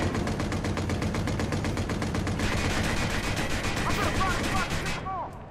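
Sustained automatic gunfire in Watch Dogs, steady rapid bursts filling the whole stretch loudly over a busy game mix, ending abruptly just before the close.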